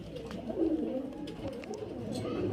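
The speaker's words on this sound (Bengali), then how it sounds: "তো আমরা ওর জোড়াটা নর পায়রাটাকে প্যাকিং করব এই যে দেখুন ফ্রেন্ড নর পায়রা এটা" A male pigeon, a highflyer kept for flying, coos softly and low in a steady throaty murmur, with faint background noise throughout.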